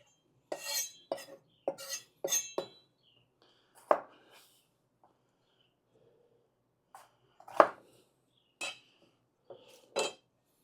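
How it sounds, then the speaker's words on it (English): A knife chops through a pepper on a cutting board for a habanero hot sauce, giving a quick run of five sharp knocks, then scattered single taps after a pause, each close and crisp with quiet gaps between. "let's get this pepper chopped up"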